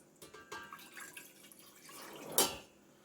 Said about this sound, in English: I'm going to dump about 2 cups of water in here.